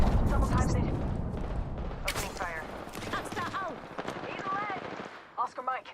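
A thrown bomb going off in the shooter game Valorant, a loud blast rumbling at the start and fading, followed by sharp bursts and clatter while people talk over it.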